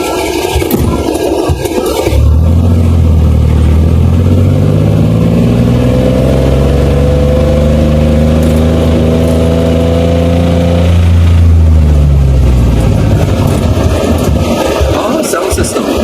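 A fake Campagna T-Rex three-wheeler built in the Philippines runs steadily, its engine droning loud and close with a rising, wavering pitch through the middle, while people talk over it.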